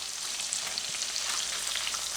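Garlic shrimp sizzle in a hot frying pan, a steady bright hiss of frying with faint crackles that goes on without interruption and with no talking.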